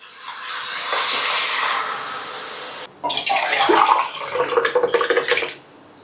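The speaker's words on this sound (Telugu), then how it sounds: "పుచ్చకాయ నీళ్ళు వాటర్ వేసాను అనమాట." Watermelon juice poured into a pot of rice for watermelon biryani, a steady close rushing pour, a brief break, then a louder gurgling splashy stream that trails off abruptly, no talking.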